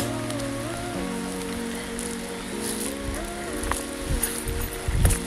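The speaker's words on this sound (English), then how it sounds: "it's pouring rain" Steady heavy rain hissing continuously on Mount Thom, with a low hum of passing traffic or wind underneath and occasional louder splashes near the end.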